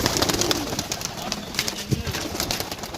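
Pigeons coo on a rooftop loft holding thirty-six birds. Soft, repeated throaty coos come over constant bird chatter and faint background voices.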